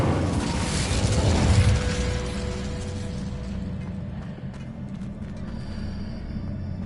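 An Incendio fire spell cast in Hogwarts Legacy, a loud whooshing burst of flame that swells in the first two seconds, then fades into a steady rumble with faint game effects.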